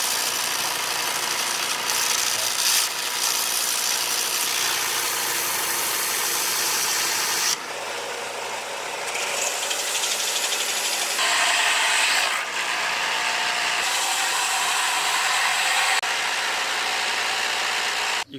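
Belt grinder with a coarse 24-grit belt sanding a hickory bow, a continuous loud abrasive roar with shifting scraping tones as the wood is pressed and moved against the belt.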